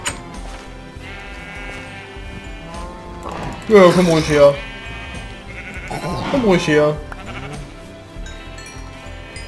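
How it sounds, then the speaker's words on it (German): Several Minecraft sheep bleat in two loud bursts, close by, over steady game music, while someone speaks calmly in German before and between the calls. "Warum sind die Schafe alle draußen?"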